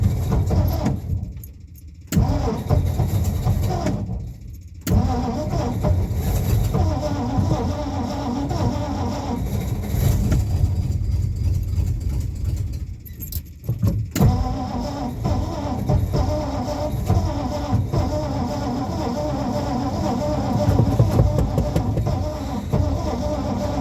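A worn-out unibody vehicle's engine labours through a cold start attempt, a steady low mechanical churn running for most of the stretch, broken by two short drops near the start and a brief pause midway.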